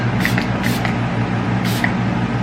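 Makeup setting spray mists onto a face in three quick, soft, hissy puffs, the last one after a short pause, over a steady low background hum.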